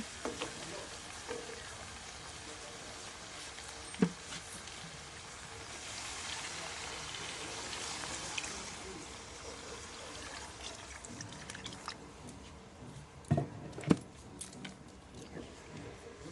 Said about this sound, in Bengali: আমি এবার এখানে জল দিয়ে দেব।